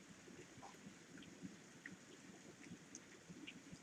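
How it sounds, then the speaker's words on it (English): Heavy rain pours steadily outside during a lesson, a faint, even hiss with soft scattered patter and no voices. "It is sure raining hard, isn't it?"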